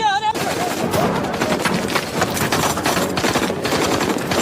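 A film gunfire exchange rattles with dense, continuous bursts of machine-gun fire and overlapping shots, loud and close, with a brief whistling tone at the very start.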